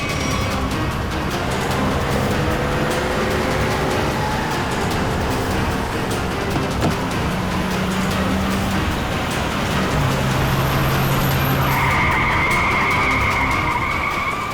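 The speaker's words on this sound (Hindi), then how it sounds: "पूर्वी, गाड़ी तेज चलाओ।" A car driven at high speed during a police chase in a CID crime drama, with tires squealing and skidding in long, loud, sweeping tones over a constant roaring engine and road noise.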